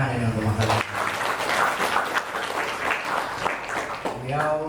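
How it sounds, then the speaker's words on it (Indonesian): Audience applause for Mas Azwar Asari at a welcome gathering with new industrial engineering students, a steady broadband clatter lasting about three seconds, with a voice speaking just before and after. "Tepuk tangan ini untuk Mas Azwar."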